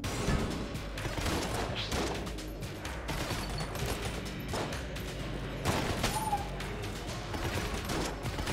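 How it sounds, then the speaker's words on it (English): Burst-fire gun in Enter the Gungeon, rapid clusters of clattery shots repeating through a dense, noisy mix of game effects and music, with faint voice beneath. "It shoots in bursts of four, and then you can't actually keep shooting."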